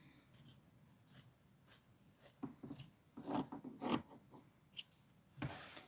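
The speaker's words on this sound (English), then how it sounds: "So I'm just going to trim down a piece of this fabric." Scissors snip quietly through embroidery fabric, a series of soft, irregular cuts and rustles spread across a few seconds at low level.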